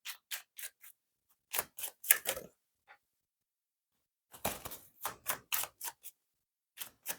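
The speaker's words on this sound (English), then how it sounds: "There I am, dropping cards." Tarot cards dropping onto a surface, a series of short, crisp flicking and slapping clicks in irregular bursts separated by silence, close and quiet.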